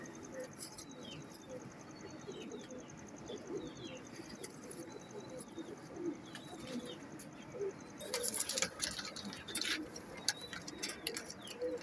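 Pigeons cooing softly in a loft, a few low repeated coos, fairly faint, with chirps, ticking and scattered rustling and clatter.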